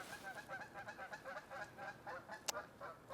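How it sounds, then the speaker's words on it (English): Geese fly in honking repeatedly at a moderate distance at sunrise in Allegany State Park, a steady run of overlapping nasal calls over faint outdoor background noise. "we got some geese coming in over there to my right"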